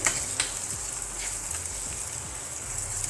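Ginger and garlic sizzle steadily as they are added to a pan of chana dal, a continuous soft frying hiss with faint crackles and no talk.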